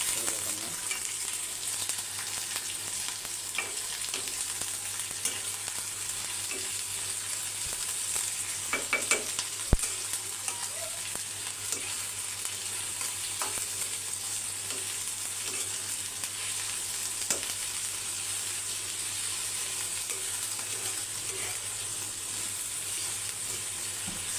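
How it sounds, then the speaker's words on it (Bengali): Onion, chili and garlic fry in hot oil in a home kitchen, a steady crackling sizzle held at an even level throughout, with a few faint clinks of stirring and no talking. "তেলটা গরম হয়ে এসছে তো আমি এখন পেঁয়াজ মরিচ রসুনটা দিয়ে দেবো"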